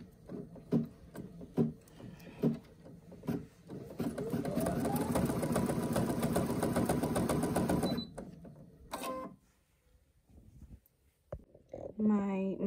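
A home embroidery machine sewing a top stitch on a bag, its rapid needle chatter running loud and steady for several seconds before stopping. A person talks over the machine at the start, with more talk after it stops.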